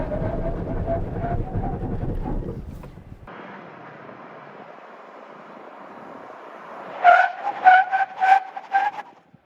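A 2024 Toyota Tacoma TRD Off-Road accelerates at full throttle on-road, a steady engine drone rising through the gears with sharp revving pulses near the end, loud and close with no talking.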